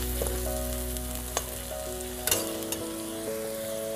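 Salt and turmeric fry in a pan for Jaunpur-style chura matar, a continuous close sizzle with a few light stirring clinks and scrapes, no voices.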